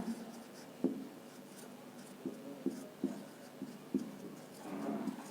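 Chalk drawing a line on a classroom board during a maths lesson, a series of short tapping and scraping strokes at an even pace, fairly faint and close, with no talk over them.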